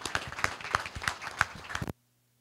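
Applause from an audience at an e-government launch event, a thin, fairly quiet patter of clapping with a few sharper individual claps, ending abruptly after about two seconds.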